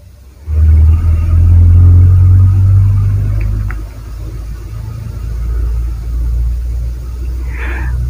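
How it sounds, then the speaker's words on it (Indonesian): A large truck rumbles past on a road nearby, a deep engine drone swelling in the first second, holding loud for about three seconds, then easing into a steady lower rumble that lingers to the end. "Mau ada truk yang lewat nih"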